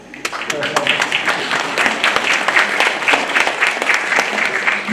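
An audience applauds a speech by the governor with dense, sustained clapping that builds quickly and holds steady, loud and close, with a voice faintly audible beneath it.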